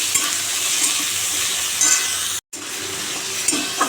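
Onion frying in a pan, a loud continuous sizzle with stirring scrapes, briefly cut off by a short gap before resuming.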